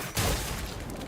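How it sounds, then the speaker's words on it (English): A loud burst in the video game Limbus Company as an explosion hits a crab creature's shell, a sudden heavy blast with broadband noise that stays loud and rumbling through the rest of the moment. "A blinding light and deafening explosion assault the crab's shell."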